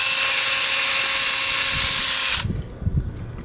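A power wire brush on a rotary tool whirs at high speed as it scrubs chipped paint off a scooter, a loud, close, steady shrill grinding that cuts off abruptly near the end, leaving faint low rumbles.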